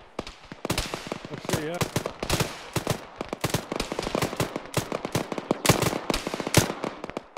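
Rapid scattered rifle and machine-gun fire in the Arma military simulation game, dense cracking bursts near and far, with brief voices talking over the shooting.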